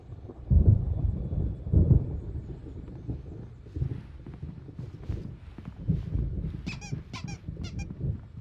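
Thunder rumbles low in a stormy night scene in Alan Wake Remastered, with two heavy booms near the start followed by a steady dark roar and a few high squeaky chirps toward the end.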